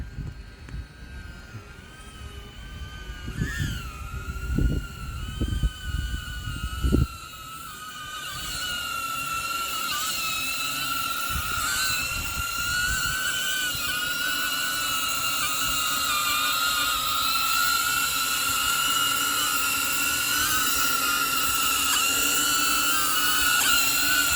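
A small DJI drone hovers with a steady high-pitched propeller whine that grows slightly louder as it descends to land, following a few brief handling knocks at the start.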